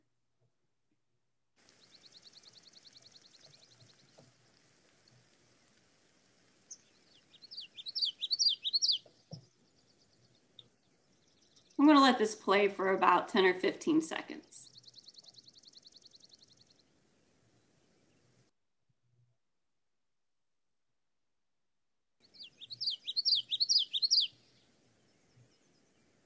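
Several different birds call in a wetland, with two bursts of bright, rapidly repeating trills and a dense, loud stretch of mixed chirping in between, set against quiet background; a person speaks briefly near the start.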